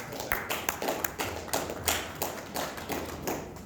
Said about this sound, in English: I think we are giving a fresh clap.